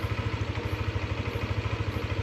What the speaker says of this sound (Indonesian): tensioner motor saya udah mulai bunyi tuh, tek tek tek tek tek tek.